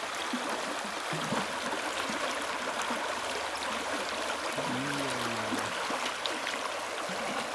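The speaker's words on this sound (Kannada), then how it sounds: "ನೀರು ಫ್ಲೋ ಆಗುವ ಸೌಂಡ್ ನೋಡಿ" River water flowing steadily at close range, a continuous broadband rush that fills the whole stretch without pause, with a brief low tonal hum partway through.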